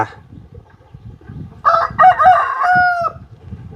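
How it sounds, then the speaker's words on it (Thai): A rooster crows once, loud and close, its call rising and holding before trailing off over a quiet background. "การได้ยินเสียงไก่กา"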